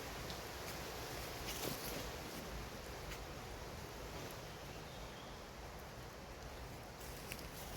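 Wind blowing outdoors in the field during a metal-detecting outing, a faint, steady rushing hiss with low rumbling gusts and a few soft ticks, no voices.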